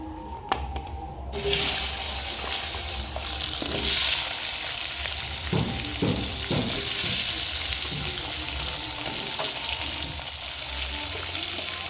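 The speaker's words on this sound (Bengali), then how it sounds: "এবার ওলকপি আর আলুটা ভেজে নেবো" Kohlrabi and potatoes frying in hot oil, a continuous loud sizzle after a brief quiet start, with a few stirring clatters midway.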